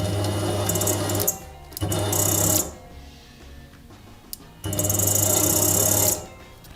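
A power saw motor whines loudly in two bursts, stops, then runs again in a third long burst, with a low steady hum and quiet gaps between.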